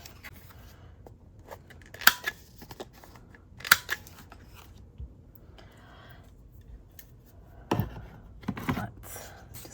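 Scissors snipping a paper tag shape around its bottom corners, a few sharp close cuts in small bursts separated by quiet pauses, with light rustling of the paper between them.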